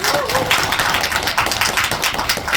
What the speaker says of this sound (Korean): 여러분 뜨거운 박수 한번 주세요